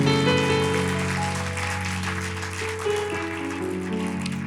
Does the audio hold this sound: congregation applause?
yes